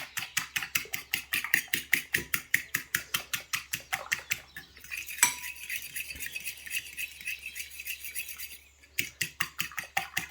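Eggs and milk are beaten in a bowl with quick, even whisking strokes in a steady rhythm, close and clear. The strokes pause for a few seconds midway, then resume.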